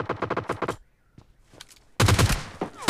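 Gunfire in the mobile battle-royale game PUBG Mobile Lite: a quick rhythmic string of loud shots up front, a near-silent gap, then another dense, loud burst of firing at the end.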